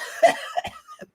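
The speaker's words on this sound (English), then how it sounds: "Just cough." A voice actor performing a fake cough, a short burst of two or three throaty coughs close to the microphone, ending in a brief breathy chuckle, with no other talking.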